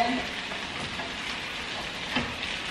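Potatoes fry in a pan in a dense, steady, rain-like sizzle with a faint clink or two, and no voices.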